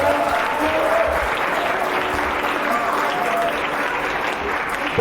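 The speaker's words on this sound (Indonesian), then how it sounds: "Tepuk tangan yang keras bersama-sama." Sustained applause from an audience at an Indonesian campus talk event, steady and loud throughout with a dense crowd wash and faint voices beneath.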